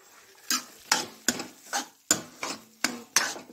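Repeated scraping strokes of a spoon stirring melting sugar in a pan for carrot halwa, about eight quick scrapes in a steady rhythm, close up with no voices.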